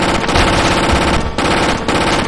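Rapid, loud automatic gunfire rattles nonstop in The House of the Dead Overkill played in VR, a dense near burst with two short breaks between volleys.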